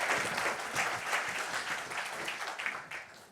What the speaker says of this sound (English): Round of applause, they've finished their job.